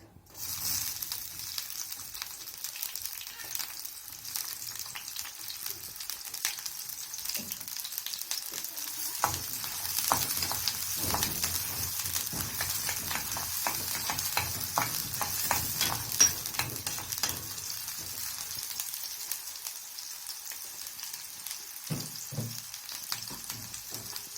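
Onions sizzle and crackle steadily in a hot pan, with stirring scrapes for a macaroni and peas dish, fairly close and continuous with no talk.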